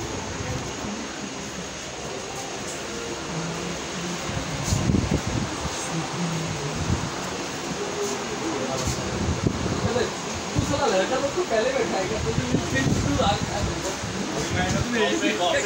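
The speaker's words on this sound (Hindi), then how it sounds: "हमारा ट्रेन का सफ़र चालू हो चुका है, देख सकते हैं बढ़ रहा है धीरे धीरे ट्रेन" Inside a passenger train carriage as it slowly pulls away, a continuous rumble and airy rushing fill the space, with someone talking over the noise.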